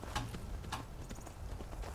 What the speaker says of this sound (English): Where's my horse? Anyone seen my horse?